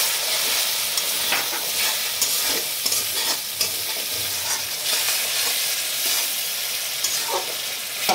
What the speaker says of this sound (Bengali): লঙ্কার গুঁড়ো দিয়ে দিচ্ছি, অল্প একটু জল দেবো মশলাটা যাতে না পুড়ে যায়।